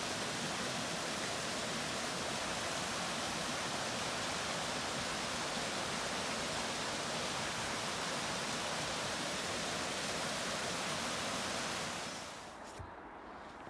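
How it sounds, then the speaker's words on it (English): A fabulous waterfall in the Lake District near Thirlmere gives a dense, steady broadband roar. It stays loud and close for about twelve seconds, then fades quickly at the end, with no voices. "Another absolutely fabulous waterfall."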